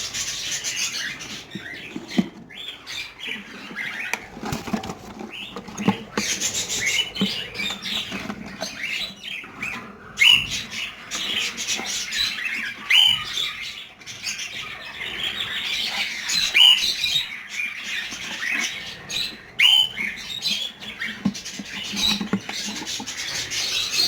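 Baby birds in a breeding setup with an orange bird pair, a busy scratchy stream of thin chirps and squeaks mixed with rustling and rubbing sounds close by.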